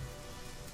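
Steady rain falling in The Witcher 3, a soft continuous hiss of drops on the ground, even and unbroken throughout, with no voices.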